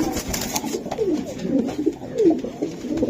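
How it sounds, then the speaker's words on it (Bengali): Breeder pigeons coo steadily in a loft, with soft overlapping rolling calls from several birds close by and no talk. "এটা বিডার কবুতর আপনাদের? হ্যাঁ হ্যাঁ এই যে বিডার কবুতর।"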